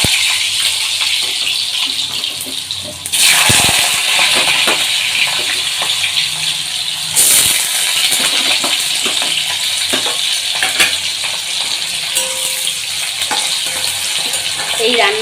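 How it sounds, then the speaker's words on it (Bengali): Potatoes drop into hot oil and fry with a loud, steady sizzle close by. Two sharp bursts mark the pieces going in, and scrapes and clinks of stirring follow. "তেল গরম হয়ে গেছে দিয়ে দিলাম আলু"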